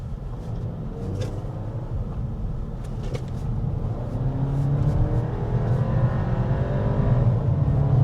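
A Hyundai Creta N Line engine rumbles at low pitch, its exhaust note swelling louder as the revs climb, with faint interior clicks scattered over the steady drone.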